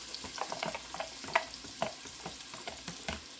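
Ground beef and onion browning in a Dutch oven, a steady close sizzle broken by several scraping stirs, with no voices.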